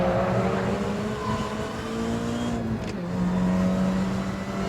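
A 2006 MINI Cooper S John Cooper Works GP supercharged engine revving steadily and loudly up close, with a whining tonal note that holds and shifts pitch across the run, no voices.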